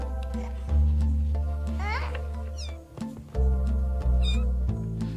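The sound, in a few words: kittens meowing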